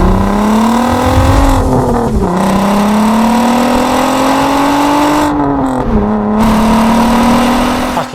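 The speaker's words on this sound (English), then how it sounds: "the Volkswagen Golf R32 is a product of that era, one of the best sounded hot hatchbacks ever made" A Volkswagen Golf R32 hot hatchback with a naturally aspirated engine revving loud and close, a sustained rising and falling drone with brief dips between pulls, no speech.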